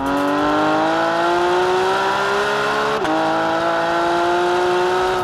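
Porsche 911 GT3 with central dual exhaust in Sport mode, a loud, close, rising engine note climbing steadily in pitch, with a brief dip at a gear change before it keeps revving.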